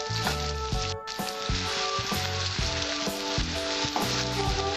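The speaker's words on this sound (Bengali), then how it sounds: "এবার আমি আদা বাটা আর রসুন বাটাটা দিয়ে দেবো" Ginger and garlic paste hits hot oil with browned onions in a pan for a Katla fish kalia, giving a steady close sizzle that runs throughout beneath a tonal, rhythmic musical backing.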